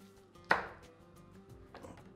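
A knife chops cooking ingredients: one sharp, fairly loud cut lands near the start, followed by a fainter knock later, with no talk.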